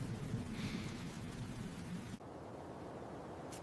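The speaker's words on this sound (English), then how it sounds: "It's still raining." Steady rain pours down in a continuous broadband hiss, fairly loud and close, with a brief dip near the end before resuming.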